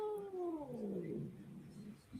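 A cat gives a single long, drawn-out meow that slides downward in pitch, fairly quiet against a soft background hiss indoors.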